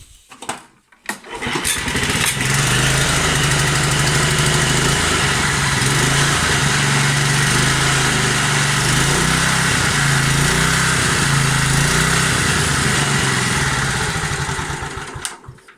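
A still-warm HR21 motorcycle engine cranks and catches after a second or two, then settles into a loud, steady, close-up idle that runs for over ten seconds before cutting off, slightly uneven because the fuel is nearly gone.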